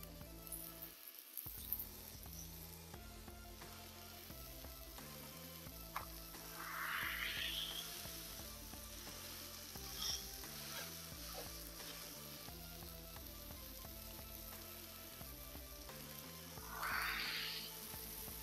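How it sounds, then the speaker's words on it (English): Meatloaf burger patties smashed onto a Blackstone griddle in bacon grease send up a steady sizzle beneath music, with two louder bursts of spitting grease partway through and near the end. "we're going to smash the patties right here in the bacon grease"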